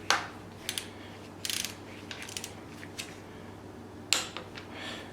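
A ratchet torques bolts during a Nissan 350Z build with a Toyota 2JZ engine swap, giving sparse, faint clicking bursts with short pauses between them in a quiet workshop.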